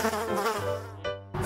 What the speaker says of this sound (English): there were busy bees on the beautiful flowers